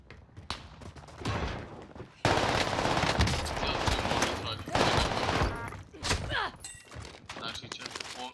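Gunshots ring out in Call of Duty: Warzone, a sniper rifle and an assault rifle in play: single cracks and thuds at first, then a loud sustained burst of rapid automatic fire with more scattered shots after, and voices heard under the shooting.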